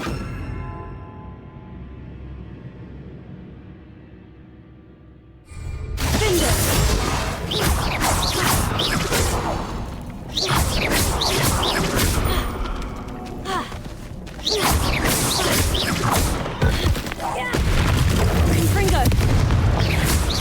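Confringo spell explosions in Hogwarts Legacy combat, repeated heavy booms and crashing blasts in quick succession, loud and dense over battle noise, after a quieter stretch of ambient game sound.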